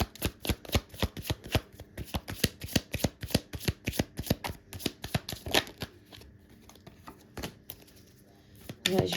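Tarot cards are shuffled in a rapid riffling run of crisp, close flicks, then slow to a few separate snaps and slaps as cards are drawn and laid down.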